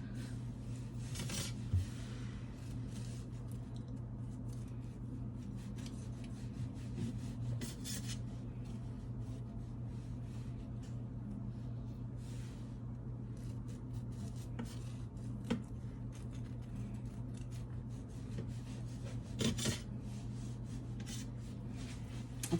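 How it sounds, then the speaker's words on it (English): A knife slicing through a crumbly loaf of date nut bread studded with walnuts, a soft sawing rasp repeated in slow strokes over a steady low hum, with occasional sharper crunches. "All right, let's slice it."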